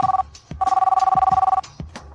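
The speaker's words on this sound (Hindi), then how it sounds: "शू शाओ का फोन। जल्दी उठाओ" A telephone rings loudly in two bursts of rapid trilling, separated by brief pauses with soft knocks and rustles.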